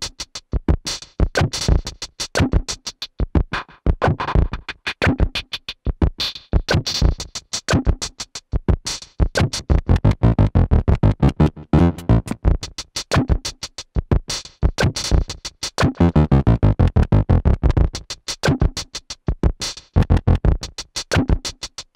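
A Sequential Pro 3 synthesizer's gated sequencer scans an 808-style percussion wavetable, producing a fast, dense stream of rhythmic clicks and tonal hits that keeps shifting in timbre, loud and alone.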